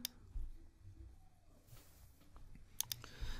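A computer mouse clicks sharply near the start and again near the end, with a quick double click in between, while a Word document is shared through OneDrive; quiet low room hum fills the gaps.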